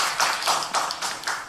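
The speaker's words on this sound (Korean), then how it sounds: "우리 환영의 박수 한번 하겠습니다" A church congregation gives welcoming applause during a Sunday morning service, with steady, rhythmic clapping in several close, even pulses over a brief moment.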